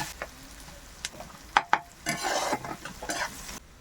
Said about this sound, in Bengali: এই বেরেস্তাটা খুব ভালো করে ভাজা হয়ে গেছে